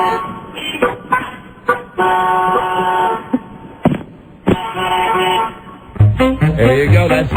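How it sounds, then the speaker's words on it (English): Car horns blare repeatedly in an agitated street scene, long sustained honks mixed with short toots, loud and close, with a varied chorus of different horn pitches overlapping near the end. "I counted a clear 23 honks."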